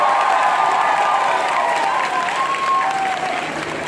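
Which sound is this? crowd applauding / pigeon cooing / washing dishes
crowd applauding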